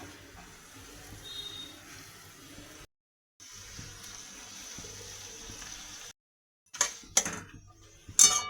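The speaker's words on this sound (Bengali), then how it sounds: "পরিমাণ মতো জল দিয়ে দেবো।" Water poured from a vessel into a pot of Bengali fish curry with tomato and spices, heard as a steady hiss and splash broken by a short gap and then a few louder splashes near the end.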